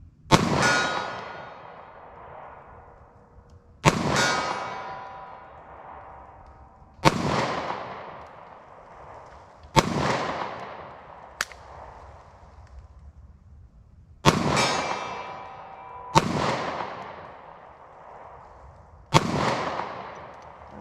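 Compact 9mm pistol fired at a ballistic target in slow, evenly spaced single shots, each a sharp crack with a ringing metallic clang decaying for a couple of seconds, about eight shots in all.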